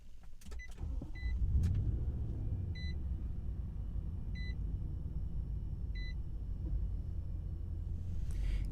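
Push-button start on a 2020 Nissan Titan PRO-4X pickup: a few chime beeps over a low engine rumble that swells as the motor catches and settles into a steady idle, close up with no talk.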